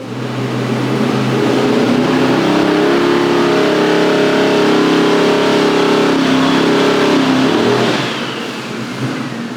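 A twin-turbo SML engine revs hard on a dyno, a loud sustained roar with rising and falling pitch that holds steady for most of the run before easing off near the end.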